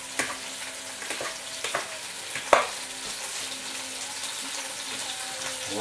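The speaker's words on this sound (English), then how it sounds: "Just gonna mix that up a little bit." A dressing made with fish sauce for a Thai grilled beef salad is stirred and mixed in a bowl, with soft scraping and a few sharp clinks of the utensil against the side, close, no talking.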